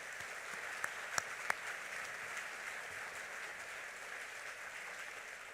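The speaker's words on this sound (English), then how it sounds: "how about a round of applause for all of those individuals?" An audience at a school Veterans Day program applauds honored veterans, a faint, distant wash of steady clapping with a few sharper nearer claps standing out.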